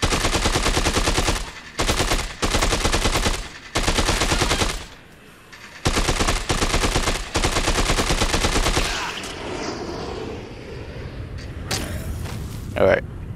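An assault rifle in the zombie video game Dead Rising: Case Zero fires in long, loud automatic bursts separated by short pauses. Softer game noises and a clatter follow, with a person talking over the action.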